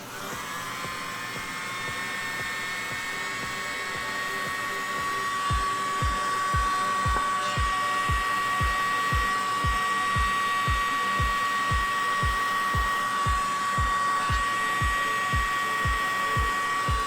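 A hair dryer blows across freshly poured acrylic paint of titanium white mixed with Floetrol, a steady high whine with a fast regular ticking pulse, loud and close throughout.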